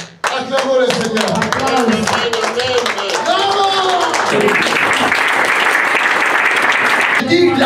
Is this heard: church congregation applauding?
yes